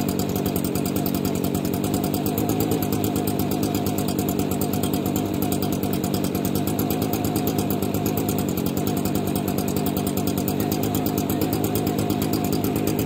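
A metal-melting forge burner roars steadily and loudly while a crucible heats for melting aluminum foil, a constant pulsing drone lasting the whole stretch with no pauses.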